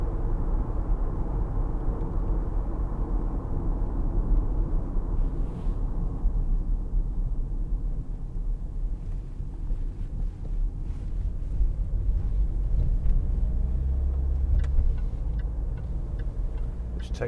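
A 2014 Jaguar XF 2.2 TD Luxury Sport on the motorway gives off a steady low road and engine rumble with wind noise, continuous and even throughout, with faint ticks above.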